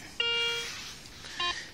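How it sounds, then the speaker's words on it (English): Metal detector in a field giving two short electronic beeps, a longer tone then a brief second one, fairly faint against quiet outdoor background. "That machine keep beeping all the time."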